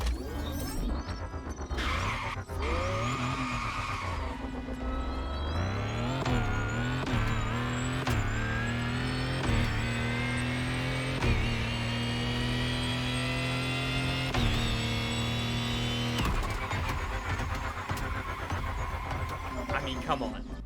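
A whining electric motor rises and falls in pitch as the car accelerates and shifts, a continuous synthetic hum with tonal sweeps, loud and close, from an electric engine swap in the video game The Crew Motorfest.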